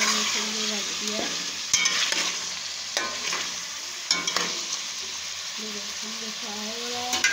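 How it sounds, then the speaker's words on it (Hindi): Chicken frying in a cup of oil for tandoori chicken, giving a constant close bubbling sizzle, with repeated spoon scrapes and knocks against the pan as it is stirred. A faint voice is also present. "इसके लिए चिकन को मैंने एक कप ऑयल डालकर और फ्राई होने के लिए रख दिया।"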